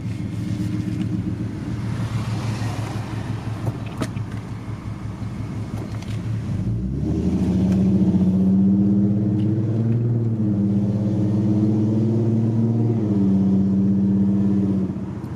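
A V6 Ford Mustang with long tube headers, cat deletes and a full custom exhaust idles with a steady rumble, then climbs into a smooth, sustained rev under slow throttle, loud and close with no talking.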